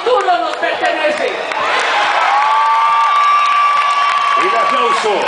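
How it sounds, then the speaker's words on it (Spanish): A loud crowd at a campaign-closing political rally in Bogotá's Plaza de Bolívar cheers and whoops continuously, with shouting voices and some clapping blending into a dense, sustained roar. "¡Y de aplauso para la vicepresidenta candidata, Clara López!"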